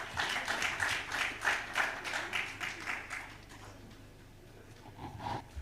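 Conference audience applauding at a housing finance event, a steady burst of clapping that fades out after about three seconds into quiet room tone.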